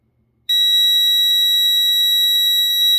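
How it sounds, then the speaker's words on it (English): A homemade laser burglar alarm sounds through a small speaker: a shrill, steady electronic beeping tone starts abruptly after a moment of silence and continues loudly and unbroken. "once the alarm trips, it goes through several iterations of the beep that I chose"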